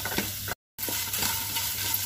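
Sliced onions fry in a pan cooked without oil, a steady close sizzle with light stirring scrapes, broken by a brief moment of silence.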